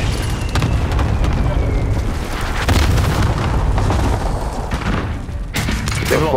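Cluster strike explosions in a first-person shooter video game, a dense run of booming blasts and rumbling bursts filling the whole stretch at high loudness, with a sharper burst near the end.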